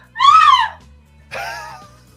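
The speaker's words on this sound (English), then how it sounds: "As there's a scream" Two separate screams ring out in a Halloween tabletop game, the first loud and wavering for about half a second, the second shorter and slightly softer, over a low steady background hum.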